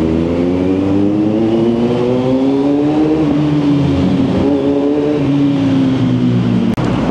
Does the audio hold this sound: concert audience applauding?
no